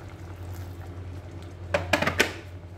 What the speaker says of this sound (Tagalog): Dagdagan ko ulit siya ng tubig kasi parang kukulangin yung tubig.